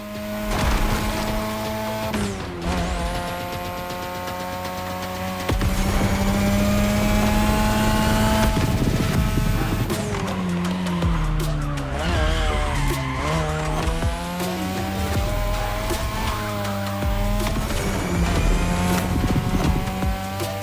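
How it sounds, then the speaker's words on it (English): A third-generation 2002 Mazda RX-7 with a rotary engine races in The Crew Motorfest, its high revving engine whining and shifting continuously with tire squeals and skids, loud and close throughout. "Tonight your ride is a 3rd Gen 2002 Mazda RX-7. Lightweight, compact, a sick rotary engine"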